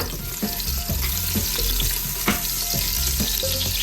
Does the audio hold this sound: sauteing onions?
yes